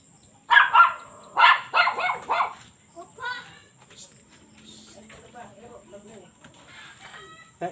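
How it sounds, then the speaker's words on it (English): Beth's dogs let out a quick run of about five sharp barks close by, followed by quieter scattered sounds and faint background noise. "Stop the dogs barking."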